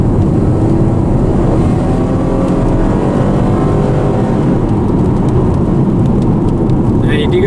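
Rain sounds inside a moving 2013 Chevy Camaro, blending into a loud, constant rumble of road and engine noise, with someone talking faintly under it.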